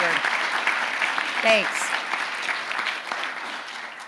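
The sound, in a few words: audience applause at a State Department briefing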